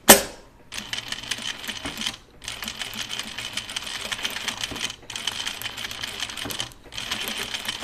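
A sewing machine with a Teflon presser foot stitches a zipper in three steady bursts of rapid clatter, separated by brief pauses, close and clear.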